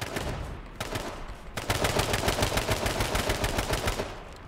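Gunfire in the H1Z1 video game: one short burst, then a sustained run of rapid automatic shots, loud and close, with no talk over it.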